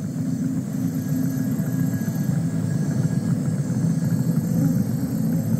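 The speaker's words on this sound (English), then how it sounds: "I'll drive the truck" A truck engine in Just Cause 4 drones steadily at a constant low pitch while driving, a loud, continuous rumble with no voices over it.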